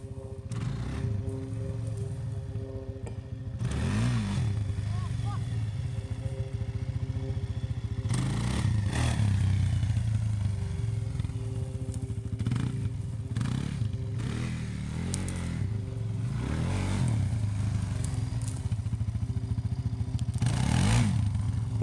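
A motorcycle ridden by a beginner practising wheelies on a first day of practice, its mid-pitched engine running steadily and revving up in repeated bursts with some clatter, fairly close and continuous.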